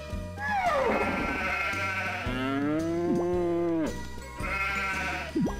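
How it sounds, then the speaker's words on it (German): Sheep in the farming video game Harvest Moon Magical Melody bleating loudly up close, with several long, wavering baas in a row and a brief pause between them. "Wir können auf jeden Fall wieder ein Schaf scheren."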